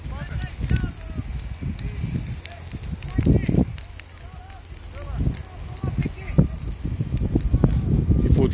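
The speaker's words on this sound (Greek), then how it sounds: "Η φωτιά επεκτείνεται προς τα πάνω." Outdoor wildfire burning in dry brush outside Koila, Kozani, with crackling and gusty wind noise on the microphone while someone talks nearby throughout.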